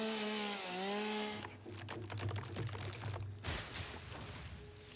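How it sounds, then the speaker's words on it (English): Chainsaw in the video game Satisfactory, cutting with a steady low buzzing drone and scattered crackling that runs for several seconds, after a short stretch of music or tonal sound at the start. "Chainsaw time."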